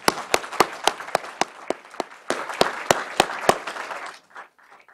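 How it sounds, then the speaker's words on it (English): A workshop audience applauds at a welcome session with steady, fairly close clapping that dies away after about four seconds, leaving near silence. "just a round of applause for all of them"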